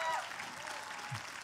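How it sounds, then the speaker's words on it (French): An audience at a French-language film screening applauds a filmmaker, giving a brief burst of moderate clapping. "Vous pouvez l'applaudir."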